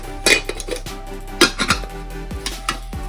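A universal lid from a set of camping cookware clinks and clatters against a pot, sharp metallic knocks and rattles arriving in irregular bursts with quieter scraping between them.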